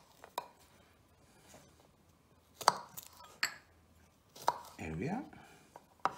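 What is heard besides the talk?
knife roughly chopping garlic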